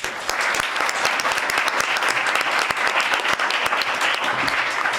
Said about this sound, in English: I think we should give our panel a round of applause.